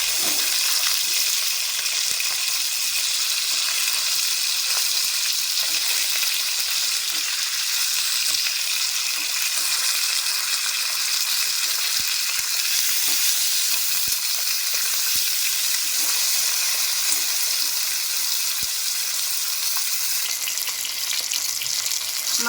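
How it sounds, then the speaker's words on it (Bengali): Pieces of katla fish fry lightly in hot oil, giving a steady, close, continuous sizzle and crackle that runs unbroken throughout with no voices. "মাছগুলো হালকা করে ভেজে নিতে হবে খুব বেশি ভাজার দরকার নেই"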